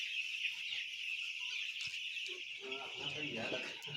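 Chickens cluck at a small home poultry farm, a steady, bright chorus of fowl calls running throughout with some lower barnyard noise building toward the end.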